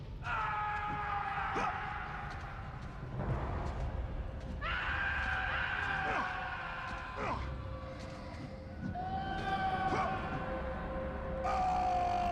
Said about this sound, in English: all these pathetic screams of people falling to their doom